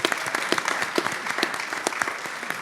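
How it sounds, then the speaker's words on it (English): Audience applause at an ASEAN gathering, lively clapping from a crowd with sharp individual claps rising above a dense steady wash, close and fairly loud throughout. "Can we give them a clap?"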